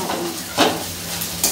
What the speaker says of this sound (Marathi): तळून टाकायचे, तळून।